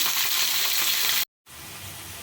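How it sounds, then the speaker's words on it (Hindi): Chopped capsicum sizzles loudly in a hot pan, a bright continuous frying hiss cut by a brief moment of total silence before resuming slightly softer, with no voices. "अब इसमें डाल देते हैं शिमला मिर्च। अब इन्हें भी 1 मिनट भून लेंगे।"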